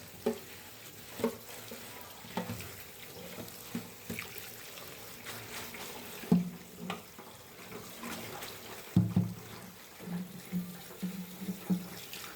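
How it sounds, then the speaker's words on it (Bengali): Running tap water splashes over cabbage leaves at a kitchen sink, a steady low wash with intermittent louder splashes and knocks as the leaves are handled; no voices. "তারপর বাঁধাকপি ভালো করে ধুয়ে নিলাম।"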